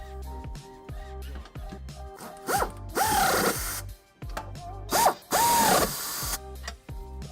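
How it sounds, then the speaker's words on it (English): Hand ratchet with an 11/16 socket snugging trailer hitch nuts on a 2018 Kia Optima, heard as quick bursts of close ratcheting clicks separated by short pauses and louder scraping strokes. "with our nuts in place and hand tight, we can snug them up using an 11/16 socket"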